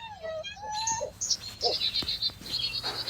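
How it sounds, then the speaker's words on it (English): Female barred owl in a backyard owl box giving soft high chirps, several brief thin calls over faint low background noise, with other short bird-like tweets mixed in. "But that little chirp you hear is the female owl in her box."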